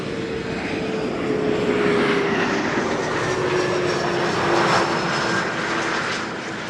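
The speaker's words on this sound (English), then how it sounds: "Iberia arriving from Madrid." An Iberia airliner from Madrid arrives at Amsterdam Schiphol, a loud close rushing jet roar with a falling engine whine that swells and then begins to fade.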